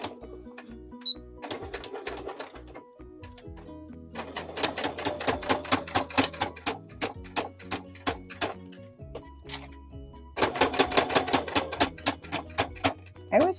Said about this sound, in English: And away we sew.